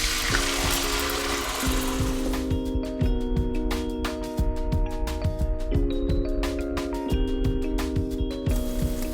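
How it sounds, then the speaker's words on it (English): Miso-coated cod searing in hot oil in a pan, a loud steady sizzle and spatter running throughout, with a faint tonal hum from the stove or kitchen under it. "I'm going to sear the cod on both sides"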